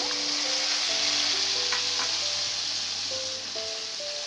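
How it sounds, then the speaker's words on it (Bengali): Onions fry with four cardamom pods and three pieces of cinnamon, a close, steady sizzle throughout while soft melodic tones play in the background. "সাথে দিয়ে দিচ্ছি 4টি এলাচ, 3 টুকরো দারচিনি। পেঁয়াজের সাথে ভাজা হবে।"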